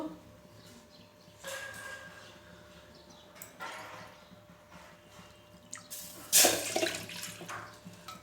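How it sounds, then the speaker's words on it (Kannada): Water splashes into a pot in several separate bursts, the last one loudest, with quiet pauses between the pours. "ಮೂರು ಕಪ್ನಷ್ಟ ನಾವು ನೀರು ಹಾಕೋಬೇಕು"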